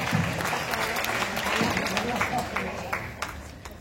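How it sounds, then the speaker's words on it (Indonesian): Audience applause for a deputy governor at a film festival talk, a sustained, even round of clapping from a seated crowd, moderately loud, with a few sharper individual claps standing out near the end. "Kita berikan tepuk tangan sekali lagi untuk Bapak Rano."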